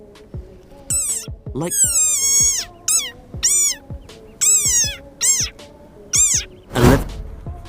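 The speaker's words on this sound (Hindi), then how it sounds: "डेजर्ट फ्रो खतरा महसूस होने पर देखिए किस प्रकार की आवाज निकालता है, सुनिए इन्हें।" A desert rain frog calling when it feels threatened, giving a series of short, high, squeaky chirps with rising and falling pitch, close and fairly loud, separated by brief pauses.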